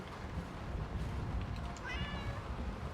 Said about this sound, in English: Don't meow at me.